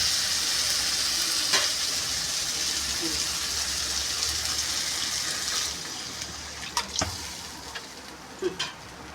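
Ground cumin and spices for a Bengali fish curry fry in a pan, a steady close sizzle that softens slightly, then a few sharp spatula scrapes and clinks near the end.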